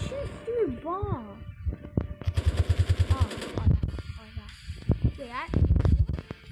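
Rapid bursts of automatic gunfire in the CopNRobber prison-escape video game, mixed with game music and sound effects, with a person talking over the action.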